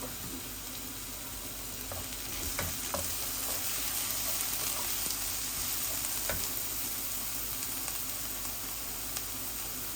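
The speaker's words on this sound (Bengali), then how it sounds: "এই চিকেনটা আস্তে আস্তে হোক ভুনা।" Chicken breast pieces frying in a pan for a Bangladeshi-style bhuna, a steady soft sizzle with a few faint clinks of stirring, low and continuous throughout without speech.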